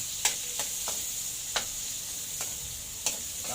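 Onions sautéing in a pan after garlic, a steady close sizzle broken by a few sharp clicks of a utensil against the pan, no talking.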